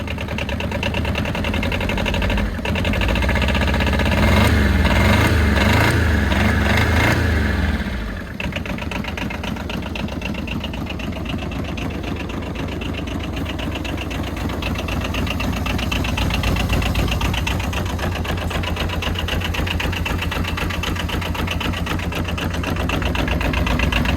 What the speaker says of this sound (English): Good sounding motor.